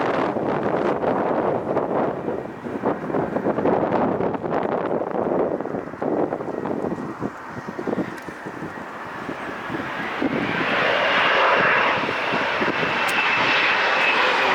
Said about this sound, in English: CRJ is landing.